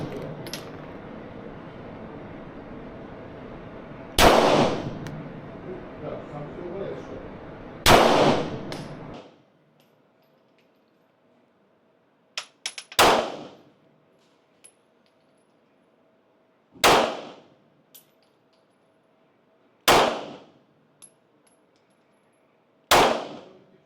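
Glock pistol firing at an indoor gun range: about six sharp, loud shots spaced a few seconds apart, the first two over a steady background hum, the rest against near silence.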